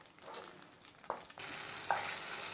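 Masala spices sizzle and fry in a pan over a high flame, a steady broadband hiss that swells louder partway through, with a brief scrape of stirring and no talking.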